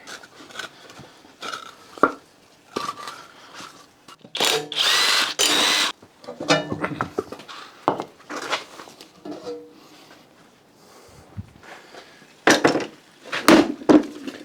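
Power tool working on a Citroen BX rear axle to remove the tires, heard as a few short bursts and one longer whirring run between quieter clanks and handling noises, fairly close.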